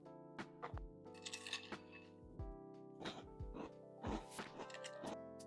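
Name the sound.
crunching Magic Spoon chocolate cereal with almond milk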